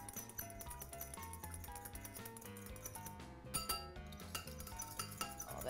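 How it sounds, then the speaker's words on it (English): A whisk clinks rapidly against a bowl while mixing chili sauce, brown sugar and vinegar for meatloaf, making quick light repeated taps close up over background music, with no talk. "we're just gonna whisk that all together"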